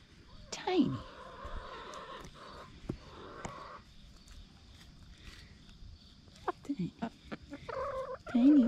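Chickens cluck and squawk nearby in a backyard morning scene, giving scattered short calls with a louder burst near the end, while a person talks over them.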